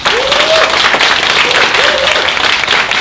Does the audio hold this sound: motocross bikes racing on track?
no